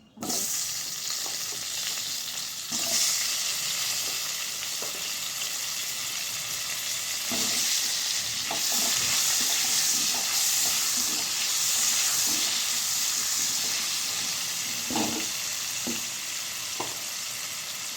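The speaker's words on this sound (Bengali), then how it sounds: "এখন আমি আলুটাকে ভেজে নেব একটু" Potatoes fry in a pan with a steady, close sizzle and hiss, broken now and then by soft scrapes and taps of stirring.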